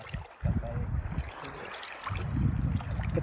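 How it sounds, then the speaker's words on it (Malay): Strong sea waves churning near a small boat during crab netting, a rough, continuous rush of water with heavy low surges and wind, loudest in the second half. "Ombak sangat kuat."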